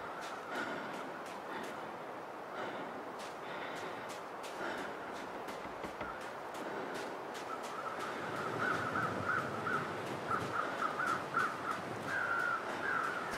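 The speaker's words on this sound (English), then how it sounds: "Oh, more crows." Crows caw repeatedly in The Long Dark video game, harsh calls ringing out over a steady wind-like ambient wash, growing more frequent and clustered toward the end.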